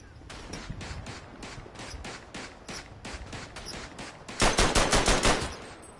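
Rapid gunfire in a World War I western front shooter game, steady bursts of automatic shots close by, growing louder and denser toward the end.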